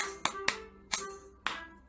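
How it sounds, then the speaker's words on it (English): Four sharp hand claps in an uneven rhythm during a children's phonics action song, close and clear with a faint background tone between them. "I can clap my hands."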